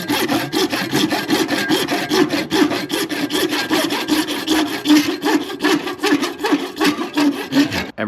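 Steady back-and-forth hand sawing cutting through a reel mower part, loud, close and evenly rhythmic, with no talking.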